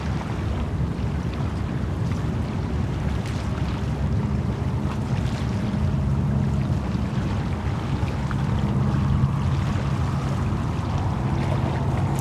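Boat-wake waves lapping at the water's edge of ocean channels beside JFK airport, a steady close rushing wash with continuous wind buffeting the microphone.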